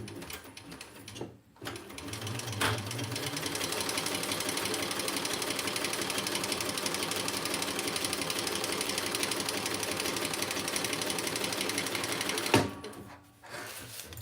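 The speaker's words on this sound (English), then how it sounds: "let's just give this a little sew here" A sewing machine stitches a crossbody bag in one long, steady, even run of loud mechanical whirring that starts after a brief pause and stops with a short pause near the end.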